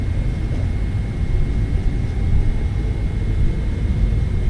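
Boeing 777 jet engines spool at takeoff thrust on a runway in a flight simulator, a steady loud low roar with broadband rumble lasting the whole stretch, with no talking.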